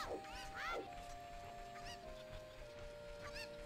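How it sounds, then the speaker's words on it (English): Chickens cluck and squawk in Zelda Ocarina of Time, several short rising calls repeating over faint game music, moderately quiet. "Chicken."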